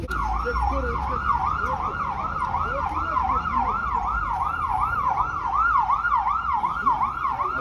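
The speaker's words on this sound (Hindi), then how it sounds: "ये क्या गाड़ी में शायद ये एम्बुलेंस भी खड़ी है, पुलिस वाले भी खड़े हैं।" An ambulance siren wails at a three-car road accident scene in Bishkek, Kyrgyzstan, where police are also present. The loud, continuous up-and-down wail cycles steadily over low road and traffic rumble.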